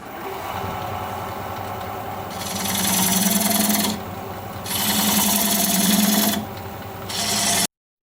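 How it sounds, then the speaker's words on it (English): A diamond point tool cuts a sassafras wood tenon on a spinning lathe, giving repeated bursts of scraping, hissing cutting over the lathe's steady motor hum, three passes with brief pauses between, close and loud. "I'm going to use this diamond point tool to square up the sides of the tenon."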